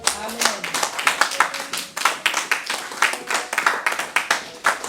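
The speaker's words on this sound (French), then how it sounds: "Est-ce qu'on peut acclamer pour la parole de Dieu?" A church congregation claps rhythmically in steady, loud, even beats, with scattered voices mixed in across the room.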